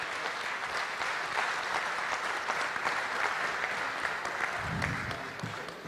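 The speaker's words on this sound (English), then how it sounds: "Let's give a round of applause again to the people serving the dinner." At a football banquet, the audience claps for the people who served the dinner, a steady mid-level clapping from a large room that continues for several seconds.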